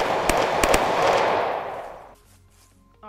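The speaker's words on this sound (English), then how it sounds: "Look at the sound of that gun." A gun from the Unturned Vietnam mod fires a few sharp, close shots in quick succession. A broad roaring echo follows and fades away over about two seconds, leaving near quiet.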